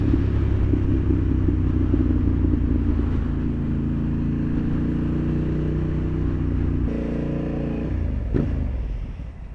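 A Honda CB750 motorcycle exhaust rumbles steadily at idle or low revs while riding in UK traffic, with a deep, even drone that drops in pitch near the end as the bike slows.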